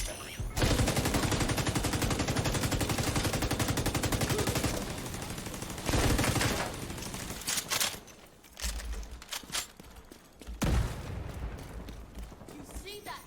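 Rapid, dense gunfire from The Division 2 rattles in long sustained bursts, broken by short pauses and scattered later volleys; no speech.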